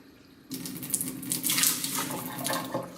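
Tap water runs into a measuring cup while measuring water for cooking rice, starting abruptly after a brief quiet moment and then pouring steadily and close up, with the splashing shifting as the cup fills. No one speaks.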